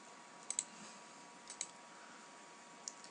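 A computer mouse clicks a few times, quiet and crisp, as someone works in 3D sketch software. The clicks come in small pairs against a faint hum.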